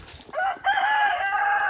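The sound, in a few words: chicken rooster crowing in coop run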